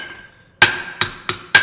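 Four hard, ringing hammer blows land on a steel piece set on an anvil to true up a spot where it was shot through. The strikes are close and loud with uneven gaps, and no one talks.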